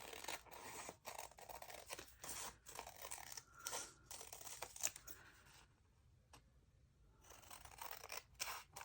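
Paper being cut with scissors while making a handmade sewn journal: quiet, close snips and crisp crunches repeating in an uneven rhythm, with no talking.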